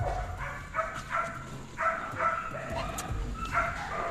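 An excited explosive-detection sniffer K9 at a training center yips and whines in a string of short, high-pitched bursts, fairly close, with voices faintly in the background.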